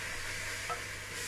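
Blended tomato, sweet red long pepper, onion and scotch bonnet purée poured into a pot for jollof rice, giving a steady soft sizzle and hiss with a brief stir in the middle.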